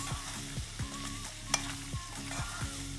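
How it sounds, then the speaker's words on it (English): Vegetables are stirred in butter in a pan for a creamy pumpkin soup, with a utensil scraping in a regular rhythm over a continuous close sizzle and no speech. "Just for a few moments, we keep our vegetables stirring like that"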